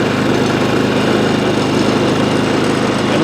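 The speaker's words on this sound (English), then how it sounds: "With the engine running, we're going to check that voltage again." A Predator 3500 inverter generator engine runs at a steady drone, loud and close, with a constant low rumble and no pauses.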